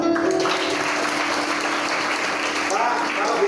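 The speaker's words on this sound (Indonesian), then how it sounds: "Boleh tepuk tangan." A church congregation breaks into applause after a pastor's testimony, a continuous wash of clapping heard close and fairly loud throughout, with a voice briefly audible underneath.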